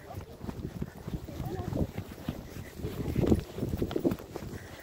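Horse hooves clip-clop at a walk on an outdoor riding track during a lesson, a steady soft rhythm of footfalls mixed with rustling, with a rider's voice talking over the steps.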